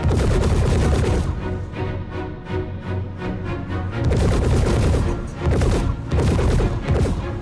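Gunfire in the Star Citizen video game: loud, dense bursts of rapid shots and blasts filling most of the clip, with a brief lull in the middle before the firing picks up again.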